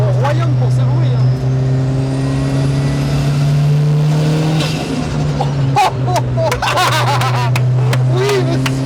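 A 600 hp Subaru GT Turbo race car on slick tires idles and rumbles with a steady low drone from inside the cabin, with a few sharper mechanical bursts late on while occupants talk over it.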